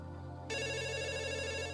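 A loud, steady electronic phone ring with a bright, buzzy tone cuts in suddenly and continues without pause.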